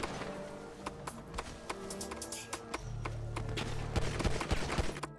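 Gunfire in a GTA 5 roleplay shootout, rapid sharp shots in irregular bursts at moderate distance, overlapping with rumbling game ambience.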